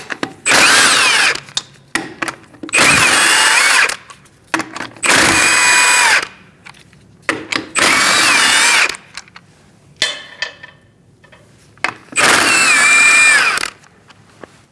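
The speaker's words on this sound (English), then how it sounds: "Using the same size, we're going to remove our lug nuts." Five loud bursts of a power tool whirring as it removes lug nuts from a 2006-2011 Chevrolet HHR rear wheel, each lasting about a second or two, separated by brief pauses and small clicks.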